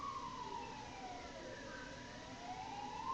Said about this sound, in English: Just a few police officers going by